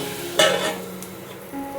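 Boiled dal is poured into a sizzling tempering in a hot pan, giving a sudden splash and loud hiss that settles into a steady, softer sizzle with a faint stir of the spoon.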